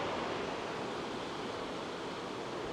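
Water at the edge below a staircase on Taiwan's rural coast near Jiufen and Houtong, washing in a steady, dense, hissing wash close by with no voices.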